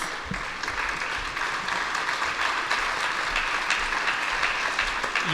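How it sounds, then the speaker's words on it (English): Steady, dense applause from the audience at an Indian classical music and dance festival greets a musician invited on stage, continuing evenly throughout. "wonderful round of applause for Baljeet Singh"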